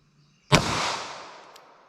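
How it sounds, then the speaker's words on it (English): A single 9mm pistol shot fired into a plain ballistics gel block at an outdoor range, one sharp, loud crack followed by a long decaying echo, with no talking. "let's do our best potential shot, 9mm, plain gel"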